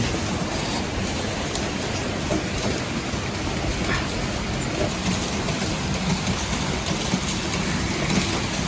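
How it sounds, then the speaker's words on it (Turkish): Steady, dense rain falls continuously in Antalya, a broad hissing wash with no pauses and no voices. "yağmur devam ediyor"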